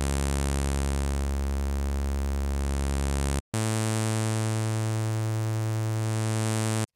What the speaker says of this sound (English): if it's on drive, this is going to be distortion inside the filter